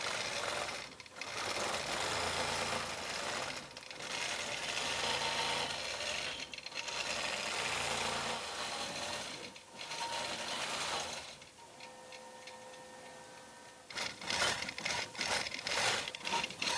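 A sewing machine quilts through a Minky quilt in long steady bursts of rapid stitching, with short pauses between runs and quieter handling sounds near the end.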